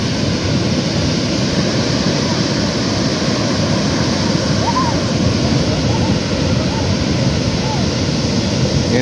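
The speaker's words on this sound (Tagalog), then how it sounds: "kita nyo naman ang alon, hindi mapigilan." Ocean surf washes continuously onto the shore at Tondaligan Beach in Dagupan, Pangasinan, a loud, even roar of breaking waves with no clear pauses.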